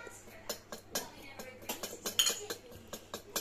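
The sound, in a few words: mixing beetroot color into homemade lip balm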